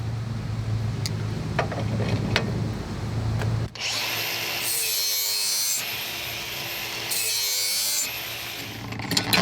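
A GSTP sharpener grinds a lawn mower blade mounted on a bushing adapter, a loud steady abrasive whir in two sustained bursts with a short dip between, after a few light clicks and handling sounds at the start.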